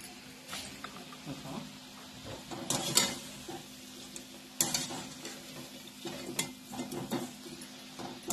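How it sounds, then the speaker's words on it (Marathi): Large and small samosas fry in hot oil on a medium gas flame, a continuous crackling sizzle broken by several sharp utensil scrapes and clinks of stirring. "हे आपले समोसे आता मोठे पण तयार झाले, लहान पण तयार झाले. आता हे पण तळून घेऊ."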